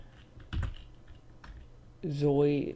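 A few distinct clicks from a computer keyboard are heard up close in a quiet room, spaced apart rather than in a rapid run, before a voice starts speaking near the end.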